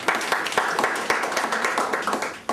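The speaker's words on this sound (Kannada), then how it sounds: "ಎಲ್ಲರೂ ಒಂದು ಚಪ್ಪಾಳೆ ಕೊಡಿ ಅವರಿಗೆ" A group at an indoor team training session applauds a participant with a short burst of brisk, uneven clapping from many hands close by.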